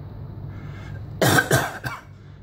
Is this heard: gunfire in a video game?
no